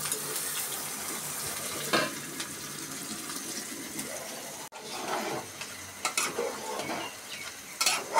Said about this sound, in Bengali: আজকে লাউ রান্না করা হচ্ছে।